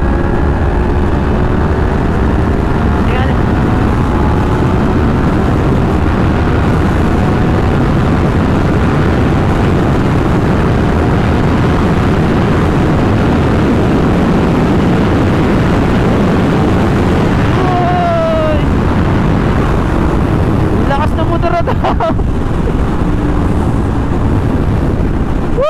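A Yamaha MT-10 big bike is pushed toward a 237 km/h top speed, its engine droning steadily under a loud, constant roar of wind buffeting, with a brief shifting sweep late in the run.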